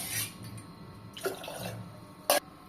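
Water pours into a cooker for black rice porridge, a soft continuous splashing with a couple of brief louder splashes, close by and without talk.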